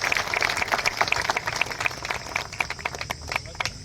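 An audience at a road safety conference claps in scattered bursts, a light uneven patter of hands that is moderately close and thins out toward the end.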